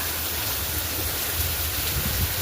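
Steady rain falls outdoors on a rainy day, a constant broadband hiss with a low rumble underneath, no talk and no breaks.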